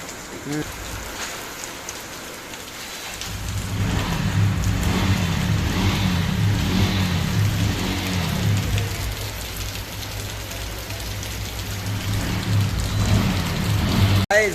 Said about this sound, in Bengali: একদম ঝেড়ে বৃষ্টি চলে এসছে